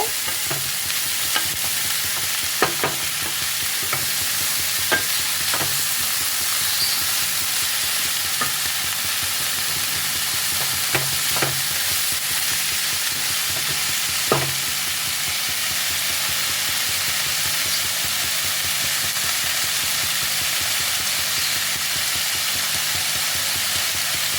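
Chicken pieces stirred in a pan of hot oil while making chicken vegetable soup: a continuous loud hissing sizzle with occasional scraping knocks of a spoon against the pan, close and without voices.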